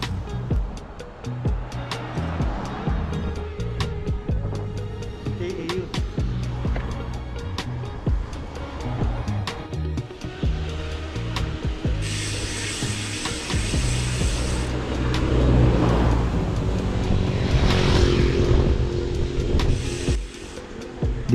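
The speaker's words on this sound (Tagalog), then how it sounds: "nasa main highway na kami Kaya naman mas madaming sasakyan ang dumadaan" Vehicles pass steadily on a busy four-lane main highway during a bike ride, with a continuous road roar that swells as louder vehicles go by, some near and heavy.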